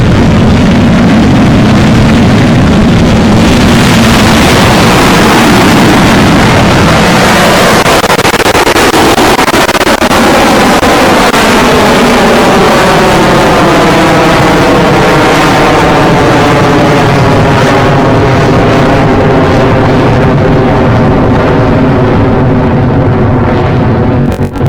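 A rocket engine igniting at launch, a very loud, dense roar that swells and holds steady as a continuous rumbling blast.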